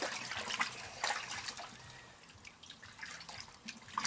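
Furs stirred around in a tub of EZ100 tanning solution, with irregular sloshing, splashing and dripping water that swells and fades in uneven bursts, fairly close and quiet, no voices.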